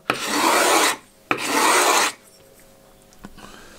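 The bevel of a cheap hand plane's blade being sanded, two loud, close rasping strokes about a second each, followed by quiet with a faint click.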